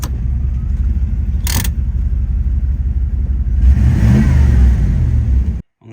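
Engine of a 1988 Chevrolet Camaro IROC-Z, first started after sitting unused a long time, rumbles loud and close, then revs up hard around the midpoint before cutting off abruptly near the end.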